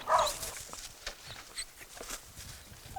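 Hungry dogs on an island dumping ground crowd together, giving faint whimpers and yelps amid shuffling footsteps and rustling, fairly quiet and scattered with no talking.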